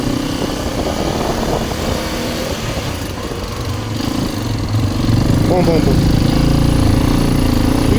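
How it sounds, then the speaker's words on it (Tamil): A scooter engine labours up a steep hill road in the Eastern Ghats, a loud continuous rough drone that swells louder toward the end, with people talking over it. "வண்டி தான் ஈஸியாக ஏறுது. அது பாரு ஸ்கூட்டி."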